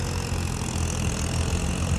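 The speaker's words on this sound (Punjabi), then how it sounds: "ਸਾਰੇ ਟਰੈਕਟਰ ਚੱਲੀ ਜਾਂਦੇ ਆ" Steady low engine rumble of several diesel tractors idling nearby, continuous and even throughout with no voices.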